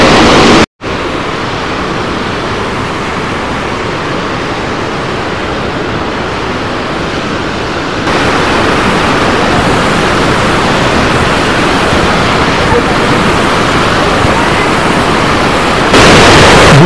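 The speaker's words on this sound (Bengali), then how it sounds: "বুঝে দেখুন কি স্পিডে জলটা পড়ছে।" Waterfall on the Kanchi river near Ranchi, with water pouring down fast in a loud, steady, close roar of broadband rushing that swells slightly louder partway through and carries on without a break.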